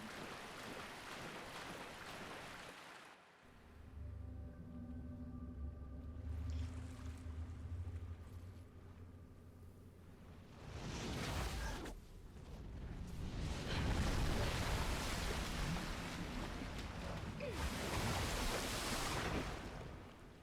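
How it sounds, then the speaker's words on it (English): Slow wading through water in Dark Souls, with sloshing, splashing steps and a swirling watery wash that rises and falls in bursts, set against a low ambient hum in the quieter middle stretch. "God, it's so slow walking through the water"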